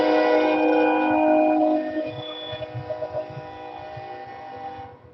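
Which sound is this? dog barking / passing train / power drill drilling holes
passing train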